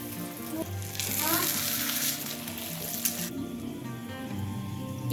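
Makki ki roti, a thick corn flour flatbread, cooks over low heat with a soft, continuous sizzle, swelling briefly then settling into a steady hiss, with some clinking and faint background sounds.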